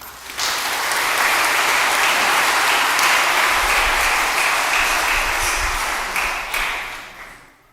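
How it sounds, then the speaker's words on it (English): Loud, full applause at a college hooding ceremony for doctorate nursing students, swelling in quickly, holding steady, then fading near the end. "Join me in a round of applause."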